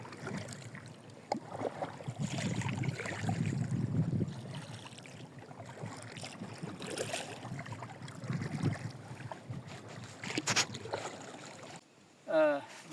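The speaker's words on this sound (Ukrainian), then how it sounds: "ми пливемо на човні на наше улюблене місто" Steady rushing of a boat travelling across water to an island, with wind buffeting and engine-like rumble throughout, ending in a short burst of a different sound.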